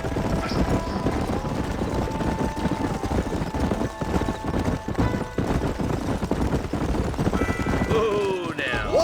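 Horses galloping in the Western video game Red Dead Redemption, a rapid continuous drumming of hooves from several riders, loud and close, with brief whinnies and scattered sounds near the end.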